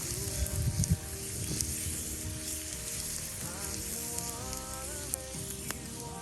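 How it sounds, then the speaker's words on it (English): Olives frying in a pan on a camp stove at a campsite, giving a steady crackling sizzle throughout, with a few louder pops near the start and scattered faint background tones. "Just forgot the olives on my stove"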